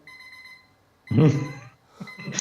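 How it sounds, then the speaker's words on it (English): An alarm clock rings with a steady high electronic tone, followed by a loud burst of jangling bell-like ringing that stops and briefly returns, moderately close in a quiet room. "It's the alarm to stop talking."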